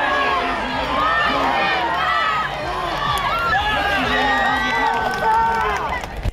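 A crowd of spectators cheers and shouts encouragement outdoors for runners in a track race, many overlapping voices including children, continuous and lively.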